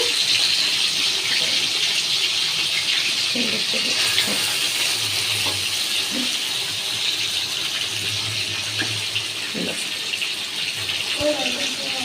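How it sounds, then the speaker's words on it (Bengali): Chicken pieces for a roast frying in hot oil, giving a steady, dense hiss and crackle that stays loud and even throughout, with faint voices underneath. "এটা এখন ভাজা হোক"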